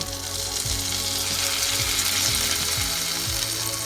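Pancake batter hits a buttered frying pan and breaks into a steady, close sizzling hiss that holds evenly throughout, with faint low tones running underneath.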